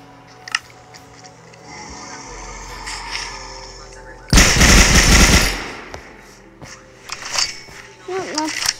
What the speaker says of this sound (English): let's review the MP40